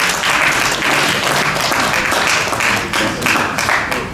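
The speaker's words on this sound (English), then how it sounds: "Please, round of applause." Audience applause fills an investiture ceremony for a national association of air traffic engineers, a dense, steady wash of many hands clapping throughout, loud and close with no voices on top.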